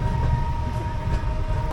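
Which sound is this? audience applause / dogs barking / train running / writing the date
train running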